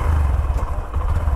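Honda SP 125 motorcycle engine pulling away in first gear, a steady low throaty rumble with light mechanical clatter, close and loud throughout with no speech.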